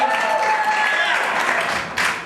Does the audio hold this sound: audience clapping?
yes